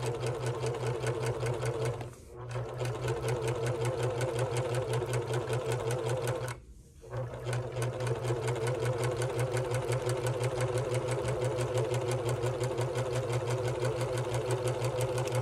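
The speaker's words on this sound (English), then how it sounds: "we will serge around our mat" A serger stitches around the edge of a fabric dish-drying mat scrap, a fast, even mechanical whir. It stops briefly twice, then restarts and keeps running loud and close.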